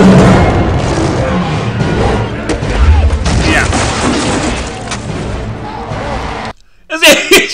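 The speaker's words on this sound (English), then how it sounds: "He whipped out a rocket launcher." Loud, dense movie action sequence from the horror film Hatchet III, with rocket launcher fire and explosions: continuous booms, crashes and gunfire-like bursts for about six seconds, then a brief drop before a few sharp hits, with voices mixed in.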